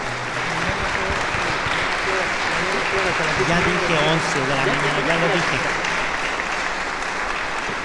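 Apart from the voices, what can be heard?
audience applause for Padre Francisco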